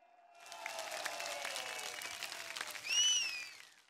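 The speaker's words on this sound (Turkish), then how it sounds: "bir güçlü alkışı kendinize yapar mısınız?" Crowd applause at a CHP political rally in Rize, Turkey, a broad sustained clapping that swells and holds for several seconds, with tonal voices or whistles rising briefly near the end.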